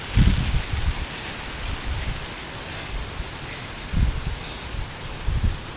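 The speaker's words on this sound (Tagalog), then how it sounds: "Pag hindi pa tumila yung ulan" Steady heavy rain from a shear line storm pours down in a dense, continuous hiss, with occasional low rumbling thuds rising and falling beneath it, as a nearby river rises.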